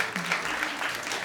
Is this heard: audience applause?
yes